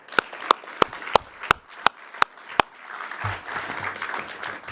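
An audience at a Bay Area Urban Eagles women-in-aviation event claps. It opens with about eight sharp, evenly spaced claps, then swells into a steady, moderately loud spread of applause.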